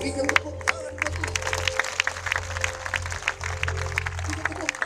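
A congregation at a healing crusade service claps steadily, a moderate wash of applause with sharp individual claps, under a low droning instrumental backing and background voices.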